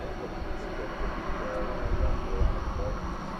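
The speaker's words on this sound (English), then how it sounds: "I was trying to track down the Qantas jet, the Spirit of Australia, coming our way" A Qantas jet approaches at DFW Airport at night, a broad steady roar of engine noise that builds slightly toward the end, heard from beside the airfield fence.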